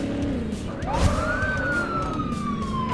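An ambulance siren in the MadOut2 driving game sweeps upward and then slides slowly down in a single long wail over a low engine rumble.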